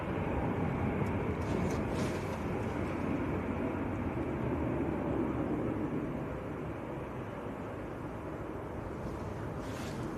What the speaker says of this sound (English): so this fan Hansa going out to Frankfurt, Airbus A320